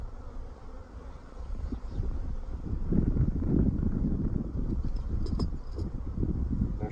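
Honeybees fan and buzz at a hive split, a close, continuous droning hum that swells louder midway, with faint wind rumble beneath.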